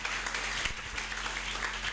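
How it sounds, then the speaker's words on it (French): A church congregation applauding, a steady wash of clapping from many hands heard at a distance, fairly faint and continuous through the short moment. "Acclamez le Seigneur pour ça."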